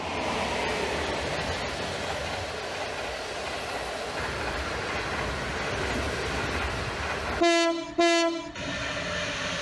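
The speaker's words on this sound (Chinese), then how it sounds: "旅客列车转了两个弯之后，我们就进入了烽火山隧道。" A passenger train on the Qinghai-Tibet Railway near Fenghuoshan, in an animated scene, rumbles along steadily and loudly, then sounds two long horn blasts close together near the end.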